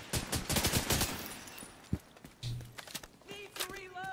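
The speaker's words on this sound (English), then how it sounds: "Oh, that minigun is cool." Rapid bursts of minigun fire in The Division 2 shooter game, a dense rattling volley up front that thins into scattered shots and footsteps, with brief talk over the top.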